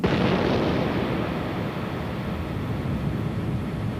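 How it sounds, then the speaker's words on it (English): A comet strikes Jupiter in a vast explosion, heard as a continuous deep, loud roar that stays steady with no talk. "There is an explosion that would make the explosion of a nuclear weapon seem tame."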